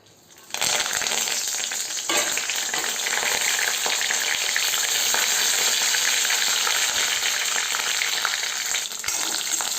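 Curry leaves, dried red chilli and garlic hit hot oil for tempering, bursting into a loud, dense, continuous sizzle that starts abruptly and holds steady up close.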